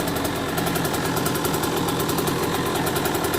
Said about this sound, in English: The idle's turning up a bit.